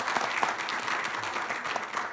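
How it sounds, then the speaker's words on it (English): An audience at a candidate forum gives a short round of applause honouring a council member retiring after nine years of service. The clapping is dense, steady and fairly close, filling the whole moment. "we give a little round of applause for Oscar"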